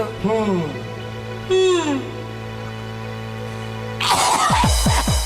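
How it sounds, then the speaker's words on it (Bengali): A few rough coughs and throat-clearing sounds near the end of a scene, preceded by a sustained musical drone with sliding tones. "কাশছো কেন"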